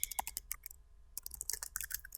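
A computer keyboard being typed on while editing a web page: a quick run of crisp, close key clicks, a short pause, then more clattering keystrokes, with no voices.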